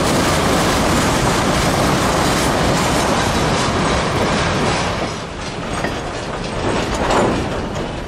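A CSX freight train made up of rock hopper cars, some loaded and some empty, rolls steadily past nearby with a loud, continuous rumble and faint wheel clatter throughout.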